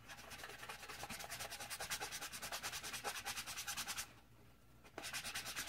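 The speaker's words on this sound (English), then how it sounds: "So I'm just going to get the rest of these sanded down." Glitter resin gel pens being sanded down by hand, a close, rhythmic back-and-forth rasping of quick even strokes, a brief pause, then the rubbing resumes.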